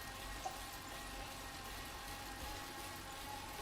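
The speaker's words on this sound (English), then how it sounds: "I'm spilling water all over myself" Water spilling and splashing from an open-topped container, a steady broadband wash of liquid sound close by, continuous and fairly loud throughout with no talking.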